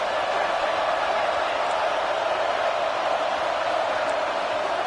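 A football stadium crowd roars in a steady, dense wash of noise that stays loud and unbroken throughout, with no distinct voices standing out.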